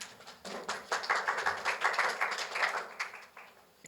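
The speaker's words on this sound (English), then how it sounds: "please give him a big applause" An audience applauds a speaker being introduced at a talk event, a dense patter of many hands clapping that swells and holds for several seconds.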